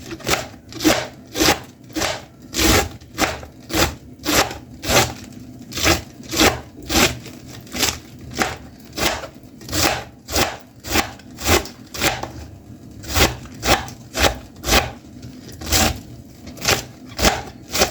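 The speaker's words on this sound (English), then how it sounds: "So now to cut, you can use a knife or a shredder, and make sure you cut small strips." A knife chops cabbage into thin strips on a board, with steady, evenly spaced crisp cuts repeating about twice a second throughout, close and clear with no talking.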